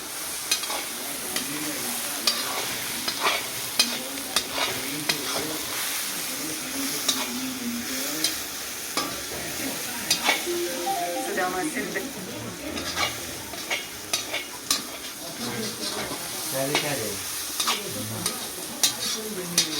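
Chicken frying in a pan with a large amount of ginger, made without garlic, onion, spice mix or oil, as it is stirred steadily. A continuous sizzle runs under repeated scraping and stirring strokes, with no talk.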